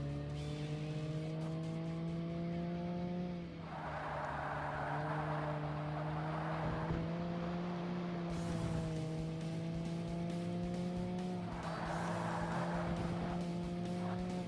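A race car engine with a turbo in the Forza Motorsport video game drones steadily and close, with its pitch shifting slightly. Two bursts of hissy, squealing noise rise over it, and no one talks.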